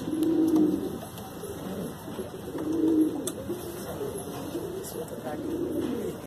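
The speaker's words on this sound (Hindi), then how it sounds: "जब कबूतर घुटरता है तो उसकी पूरी शान दिखाता है" Desi pure-breed pigeons in Bhopal cooing in a few low, rolling bursts, close by and fairly loud, with a brief chirp between them.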